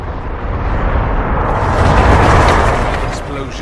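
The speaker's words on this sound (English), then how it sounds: "Explosions in an underground ruin." Loud, deep video game explosions in an underground ruin in Dragon Age rumble and roar continuously, a heavy booming wash that swells and then slowly fades.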